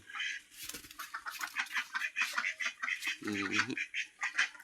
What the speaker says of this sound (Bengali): এখন হাঁসগুলা ছেড়ে দেবো, দেখি হাঁসগুলা ডিম পারছে কিনা।